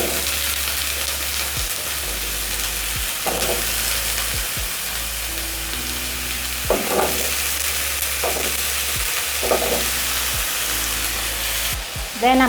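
Potatoes frying in olive oil in a pan, with a constant loud sizzle and hiss and a few scraping stirs, heard close up with no talking.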